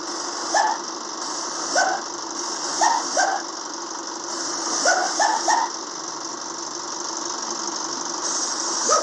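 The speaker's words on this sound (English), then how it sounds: "Brick sound." Repeated short hissing air-brake releases from a bus in Bus Simulator Indonesia, several brief bursts spaced irregularly over a steady idling engine drone, fairly loud and close.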